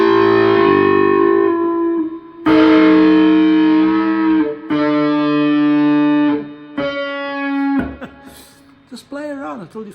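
An electric guitar with distortion and echo plays oblique bends: several sustained, overdriven double-stop notes ring loud and close, then fade into wobbling, bent pitches near the end.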